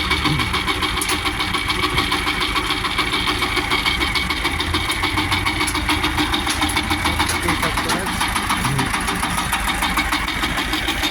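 Shifeng SF 354 tractor engine idling steadily, a dense continuous mechanical rumble with a fast knocking pulse, loud and close throughout with no pauses.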